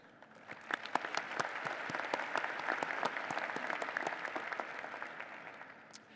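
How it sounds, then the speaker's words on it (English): Sustained audience applause at a Virginia Tech fall university commencement ceremony, dense clapping swelling quickly and holding steady for several seconds before tapering slightly, with no talk over it. "please recognize with your applause these members and representatives to the university's governing board who are with us today"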